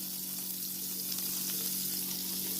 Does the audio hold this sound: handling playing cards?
no